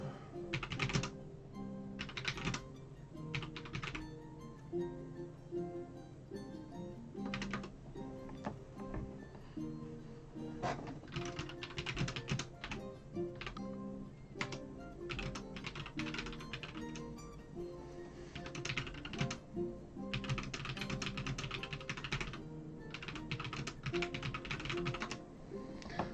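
Steady typing on a computer keyboard carries on throughout, with bursts of rapid key clicks and short pauses, close and fairly quiet.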